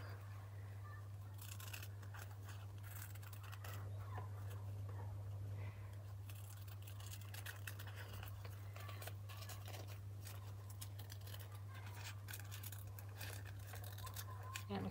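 Scissors snip through folded papel picado paper in quick, irregular clusters of crisp cuts, close and soft over a steady low electrical hum.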